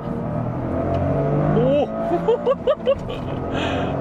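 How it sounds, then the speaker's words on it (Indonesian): A Toyota GR Corolla with an aftermarket A'PEXi exhaust revs sharply in several quick bursts, loud and close, rising and falling in pitch over a steady engine drone. "Gue pengen tahu nih rasanya GR Corolla dengan exhaust yang udah ganti."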